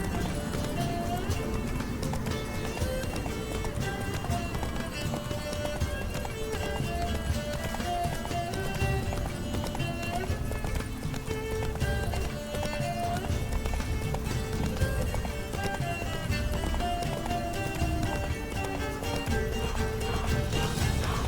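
Roach, Geralt's horse in The Witcher 3: Blood and Wine, gallops in a steady drumming clip-clop under a dense wash of music and effects that runs loud and unbroken from start to finish.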